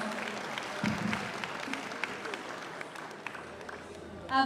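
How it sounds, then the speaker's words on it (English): Applause rises from a gala dinner crowd for girls who have just danced, a soft, scattered clapping spread across a room, fairly distant and fading toward the end. "One more round of applause for these girls"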